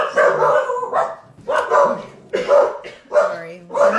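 A dog barks in several short bursts indoors, close and fairly loud, with people talking over and between the barks.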